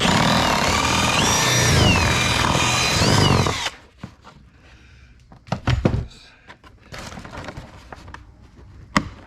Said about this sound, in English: Drill the bigger hole that this should fit into.